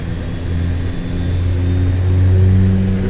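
HS 748 turboprop engines roar at max power during a go-around, a steady loud drone from the cockpit that builds slightly in the second half, with no talk over it.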